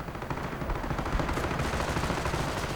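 Battlefield video game combat with artillery and gunfire, dense overlapping shots and booms rolling continuously without pause, loud and busy throughout, no voices.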